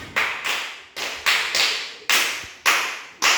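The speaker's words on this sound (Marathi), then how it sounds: "चला जिंकलेल्यांसाठी टाळ्या वाजवा जरा." Children clapping for the winners of a classroom game, heard as about seven sharp, evenly spaced group claps, each loud burst fading quickly, with no talking.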